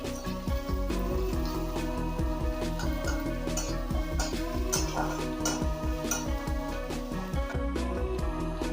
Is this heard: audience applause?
no